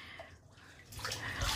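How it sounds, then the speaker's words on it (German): Cold water in a pool splashing close by, a soft trickle at first, then a brighter rushing splash that swells toward the end. "Er macht mich nass mit dem kalten Wasser"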